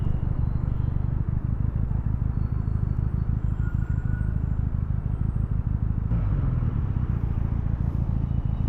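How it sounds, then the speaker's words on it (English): A Benelli TNT 300 motorcycle's exhaust gives a loud, continuous engine rumble with rapid pulsing on a road in Bangalore, steady throughout with a slight change in tone near the end. "I'll give an exhaust note somewhere here."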